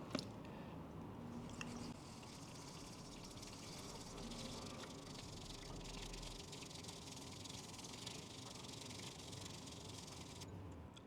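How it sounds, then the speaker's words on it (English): Hot water and matcha green tea are whisked vigorously in a bowl, producing a continuous close, busy frothy swishing and rattling that stays even throughout, with no speech. "Start by whisking the tea vigorously."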